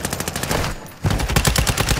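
Automatic gunfire in the video game DMZ, fast bursts of shots ringing out loudly, a brief pause in the middle, then heavier sustained firing to the end.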